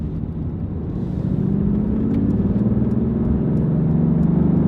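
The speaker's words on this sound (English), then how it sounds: "now we're gonna do some good acceleration" A Mercedes-Benz AMG GT R sports car engine rumbles and builds steadily as it accelerates hard, a deep, loud growl rising in pitch and holding strong to the end.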